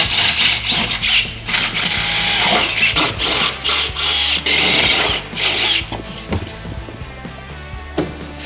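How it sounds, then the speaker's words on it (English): A power drill with a 23/64 bit whirs in a series of short, loud bursts while boring holes for interior trim in a Sprinter van, pausing between holes, then the noise drops away to a quieter hum near the end. "next we'll get started on drilling our top holes here"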